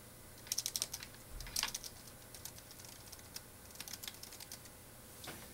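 Keys on a computer keyboard clatter in quick bursts of typing, faint and close, with short pauses between runs of clicks.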